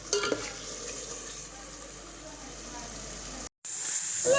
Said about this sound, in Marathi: आणखी दोन मिनटं तळून घेते म्हणजे मसाला चांगला परतून निघते